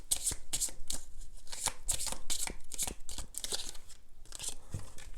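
Tarot cards are shuffled and drawn by hand, giving a quick run of close, crisp riffling and snapping card sounds in irregular bursts.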